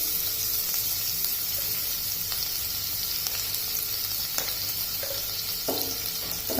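Garlic and ginger sizzle and fry in hot oil in a pan, a dense steady crackle with occasional scraping stir strokes close by, no talking.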